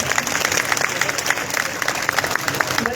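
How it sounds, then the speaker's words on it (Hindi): A crowd at a Dera Sacha Sauda gathering in Burari, Delhi claps in dense, steady applause, loud and continuous for a few seconds, with some voices mixed in. "जोरदार तालियां एक बार से।"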